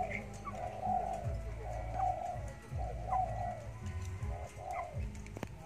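Caged birds coo repeatedly in a steady rhythm of low, rolling calls, close and moderately loud, with a dove- or pigeon-like tone over a low background hum.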